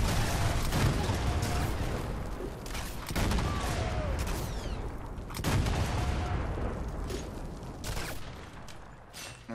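Enemy gunfire in Sniper Elite 4 keeps cracking and booming throughout, dense overlapping shots and blasts with no clear pauses.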